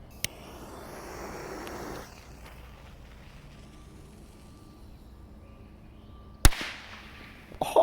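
Damaged firecrackers set off outdoors: a few sharp isolated bangs, one near the start and a louder one around six seconds, followed by small crackling pops over low background noise.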